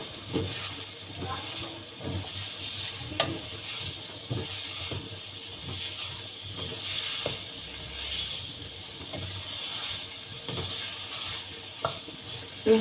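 Carrots stirred in a cooking pot for a Pakistani aloo matar gajar vegetable dish, with soft scraping and sizzling under a steady background hiss and occasional clinks.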